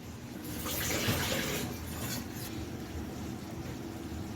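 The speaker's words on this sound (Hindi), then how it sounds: "अब हम इसमें थोड़ा सा पानी डालेंगे।" Water poured into kadhi paste in a pot runs as a soft steady trickle and splash for a few seconds, close and quiet.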